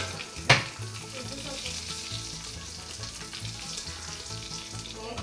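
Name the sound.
chillies, curry leaves and mustard seeds sizzling in tempering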